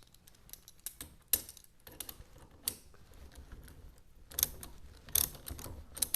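Ratchet tightening the nut on a GMC motorhome turn signal switch, sparse sharp clicks and clacks spaced irregularly, close and quiet against faint background noise.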